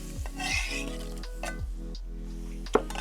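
Chopped ingredients tipped back into a pot of pea soup and stirred, with a few soft scraping strokes and a brief clink against the pot over a low simmering background.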